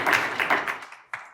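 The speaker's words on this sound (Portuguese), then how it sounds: "Uma salva de palmas pro Igor!" A few people clapping at a business and entrepreneurship talk, several quick uneven claps fading out within about a second, then one last sharp clap, close and fairly loud with no talk.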